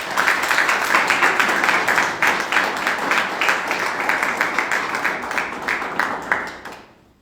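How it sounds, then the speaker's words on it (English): Sustained applause from a crowd at an edtech launch event, dense clapping that holds steady and then fades out near the end. "Let's give her a big hand of applause."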